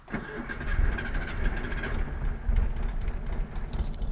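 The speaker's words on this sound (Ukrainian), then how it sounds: "І заводиться вона бляха з першого разу." A cheap used car's engine cranks and catches on the first try, then runs with a steady rumbling idle, loud and close, with no talking.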